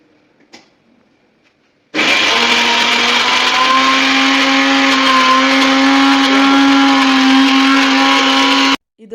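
A Preethi Zodiac Cosmo mixer grinder with a 750-watt motor switches on after a short pause and runs at a steady, loud whine for about seven seconds, then cuts off abruptly.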